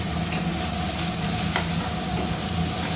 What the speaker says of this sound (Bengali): কাঁচা পেঁয়াজটা এরকম করে ভালো করে ভেজে দিতে হবে